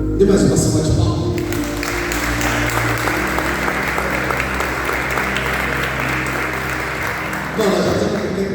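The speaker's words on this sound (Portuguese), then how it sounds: "Dê mais uma salva de palmas." Sustained applause from a big audience at a live event, loud and continuous, with a brief voice at the start and swelling sound near the end.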